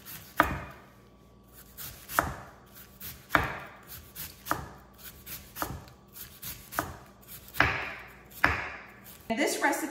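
A knife chops vegetables on a cutting board in about ten sharp, evenly spaced strikes, close and clear, with a quicker flurry of cuts at the very end.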